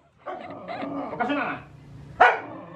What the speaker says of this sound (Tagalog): Nagagalit yung aso namin.